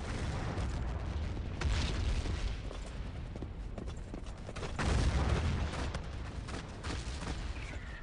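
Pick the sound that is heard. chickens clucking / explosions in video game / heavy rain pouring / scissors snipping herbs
explosions in video game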